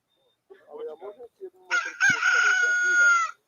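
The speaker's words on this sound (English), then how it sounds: "Rooster." A rooster crows once, loud and close, its drawn-out strained call following a few seconds of indistinct talk, with a sharp knock just as the crow begins.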